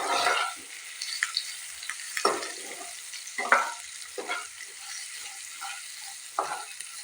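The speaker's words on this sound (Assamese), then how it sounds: "এয়া মই পিঁয়াজ ভালদৰে ভাজি ল'লোঁ, দেখিছেনে?" Sliced onions, two of them, frying in a pan with hing, a soft continuous sizzle broken by repeated scraping stirs every second or so, close and moderately loud with no talk.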